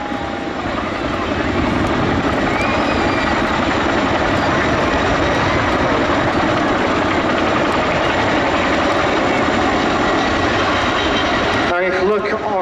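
Royal Air Force Chinook helicopter in a flying display at an armed forces day event in Cleethorpes, its loud, steady rotor and engine roar dominating throughout before cutting off abruptly near the end.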